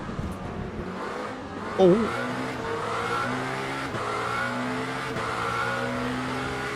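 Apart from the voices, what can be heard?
hypercar engines racing in video game Le Mans Ultimate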